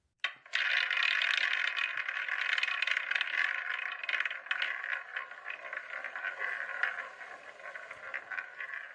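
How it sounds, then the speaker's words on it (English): A prize wheel spins after a sharp start, giving a dense run of rapid rattling clicks that go on steadily and thin out slightly as it slows over about eight seconds. "So let's spin the wheel."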